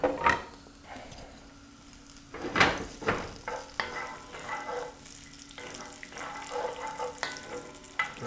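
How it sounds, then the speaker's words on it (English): Banana peppers sauté gently in a pan with a steady, soft sizzle, broken now and then by stirring scrapes and brief clatters close by, with no talking. "Got a nice gentle saute going here, nothing crazy."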